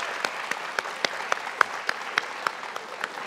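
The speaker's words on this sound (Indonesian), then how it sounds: "Silakan tepuk tangan untuk teman-teman Anda." Steady applause from a studio audience welcoming guests onto a talk show set, with a few sharper claps standing out above the dense, continuous clapping.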